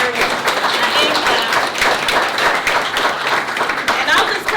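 Steady, dense applause from an audience at a ribbon-cutting for a behavioral health and wellness annex, honoring the contractor who built much of the building by hand; loud, continuous and close, with no pause.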